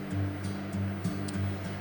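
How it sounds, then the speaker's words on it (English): Milk poured slowly in a steady, low rushing stream into an egg mixture for banana cream pie custard, close by and continuous, with no voices. "we're just gonna slowly pour our milk in"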